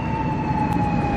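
Emergency vehicle siren at a stadium in Mahamasina, a steady sustained wail held at an even level for the whole stretch, fairly loud with no talk over it.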